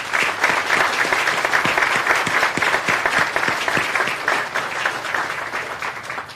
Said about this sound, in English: Let's give our students a round of applause.